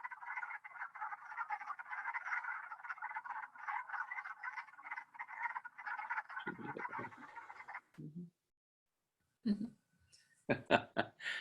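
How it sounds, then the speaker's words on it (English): Wood frogs croaking in a dense spring mating chorus at a cold pond, steady rapid clucking calls for most of the stretch, then a brief pause before a few louder, closer croaks return. "prominent sounds of spring, the mating of the wood frog"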